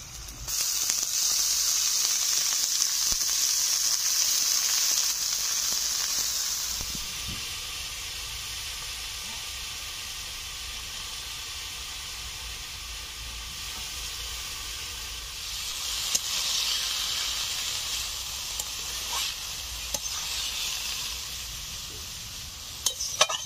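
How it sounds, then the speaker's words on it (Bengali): Washed pea greens hitting hot oil in a frying pan with green chilli paste, a loud burst of sizzling and hiss that settles into a steady frying crackle, flaring again later as the greens are stirred. "এখন ধুয়ে রাখা মটর শাকগুলো দিয়ে দেব।"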